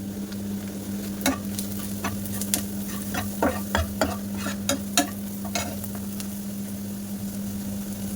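Turmeric, chili powder and cumin powder sizzle in a pan with a steady frying hiss, broken by sharp scraping clicks of a spoon stirring at irregular intervals.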